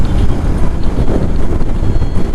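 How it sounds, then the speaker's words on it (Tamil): Strong wind buffets the microphone during a motorcycle ride on a rural route toward Kattan Hills near Ooty, a loud, steady low roar rushing continuously with no break. "நல்லா காற்று, செம்ம காற்று அடிக்குது"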